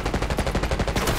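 Rapid bursts of automatic gunfire in the Call of Duty Black Ops 6 Kill Order mode on the Rewind map, a loud, dense run of repeated shots with no talk.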